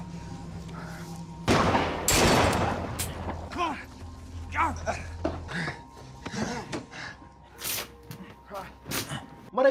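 Pistol shots from an action film shootout, a loud burst of gunfire near the start followed by scattered sharp cracks amid background speech and other film sounds.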